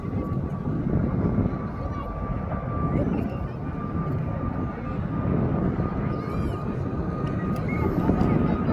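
Wizz Air jet taking off at Birmingham Airport, a steady broadband engine roar holding loud and constant throughout with a faint high whine, no voices over it.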